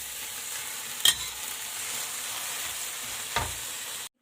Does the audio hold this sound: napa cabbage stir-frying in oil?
yes